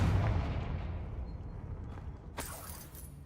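A Confringo blast spell in the video game Hogwarts Legacy, heard as a loud low boom that rumbles and fades, followed by a sharp crackling burst near the end.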